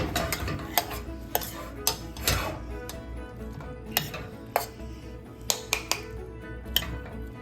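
Cooked couscous paella being fluffed and served with a utensil, giving soft scraping and stirring sounds punctuated by sharp clinks against the dish, close and steady with no talking.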